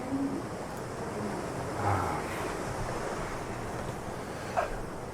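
Ocean waves and wind washing past the deck of a cargo ship at sea, a steady low surging wash with gusty microphone buffeting and a brief bump near the end, no voices.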